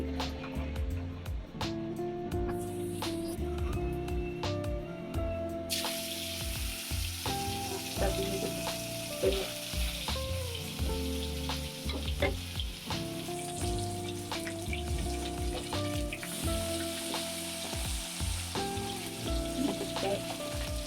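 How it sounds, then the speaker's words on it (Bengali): Fish frying in hot oil in a pan, a continuous close sizzle lasting about twenty seconds, with some clattering and other kitchen sounds mixed in. "মাছ ভাজার জন্য তেল দিলাম"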